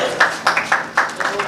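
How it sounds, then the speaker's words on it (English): An audience at a Heal in India event claps in a loose burst, with individual hand claps audible over a voice speaking. "please give a big round of applause"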